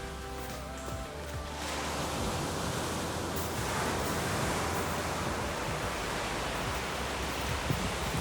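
Pacific Ocean waves wash in steadily near Napier, New Zealand, as a broad, constant roar of surf that fills the whole clip. A faint musical tone fades out at the start, and no one speaks.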